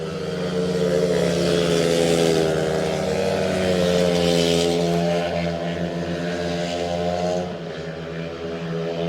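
Speedway solo motorcycles on the last lap at Nepean Raceway, a loud, steady engine roar that holds for several seconds and then eases slightly near the end.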